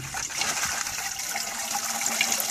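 Water pours and splashes steadily from a gravel filter during a rinse, a continuous close gushing with no talking.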